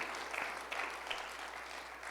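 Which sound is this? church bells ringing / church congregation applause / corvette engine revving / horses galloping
church congregation applause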